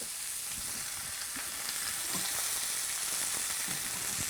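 A steak sears in a hot pan with added vegetable oil, giving a loud, even, close-up sizzle with a crackling hiss that stays continuous throughout, and no speech.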